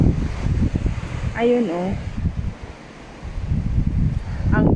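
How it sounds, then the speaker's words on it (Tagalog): Strong jugo, a south storm wind blowing in gusts past the microphone with rumbling buffeting, rising and easing, while someone speaks briefly over it. "Hindi siya bagyo ha, hindi siya ulan, pero nagbagyo siya ng hangin."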